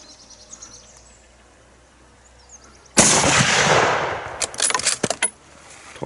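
A sharp, loud gunshot rings out at an outdoor shooting session, followed by a few crackling echoes and smaller impacts that fade over a couple of seconds. Quiet outdoor ambience comes before it.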